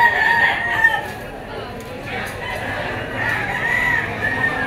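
Chickens and roosters at a poultry auction market in Lipa, with repeated crowing and clucking from several birds at close to moderate distance over a continuous crowd din.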